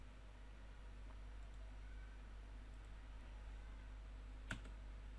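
Computer keyboard being typed on, ending in a press of the Enter key: a few faint, soft taps, then one sharper, distinct keystroke near the end over a steady low hum in a quiet room.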